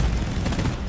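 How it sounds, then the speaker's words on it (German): Explosive blasts and rumbling gunfire-like bursts from the video game Deep Rock Galactic, a dense, loud, continuous barrage with no clear pauses. "Oh, ich glaube, da explodiert gleich was."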